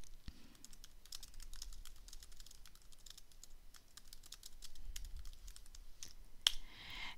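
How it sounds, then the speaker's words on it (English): Quiet typing on a computer keyboard: a steady stream of light, close key clicks with irregular rhythm, ending in one sharper click and a brief burst of noise. "at this point you get the option to type a message"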